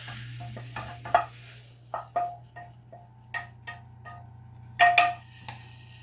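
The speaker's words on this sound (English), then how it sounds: "Now I'm going to add the sausage and pepper and onion to it." A spoon stirs sausage, pepper and onion into pasta sauce in a pan, making a series of separate close scrapes and clinks against the metal over a low steady hum.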